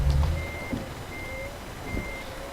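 A truck in Euro Truck Simulator 2 reverses, its backup alarm giving three evenly spaced beeps over a low idling engine rumble with a brief hiss near the start.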